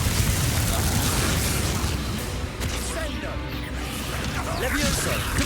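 Confringo blasting spell explosions in the Hogwarts Legacy video game, a dense, continuous roar of booming blasts and crashing debris filling the whole clip, with faint spell effects and voices mixed into the loud combat.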